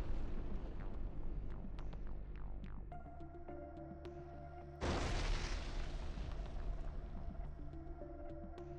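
A FAB-3000 heavy aerial bomb dropped by a Su-34 strikes forested positions near a village. A sudden broad blast hits about midway, then a sustained roaring rumble carries on over a faint tonal background hum.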